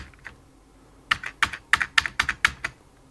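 Keys clacking on an Amiga A600 keyboard being checked in a keyboard tester: a single tap, then a quick, uneven run of about ten close, crisp keystrokes with no talking.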